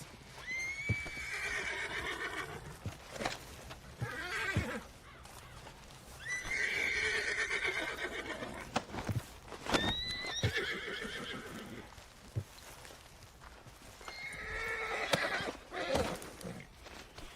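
Several loud horse whinnies in Red Dead Redemption 2, each long and wavering, separated by gaps with scattered hoof clops and thuds, close and clear.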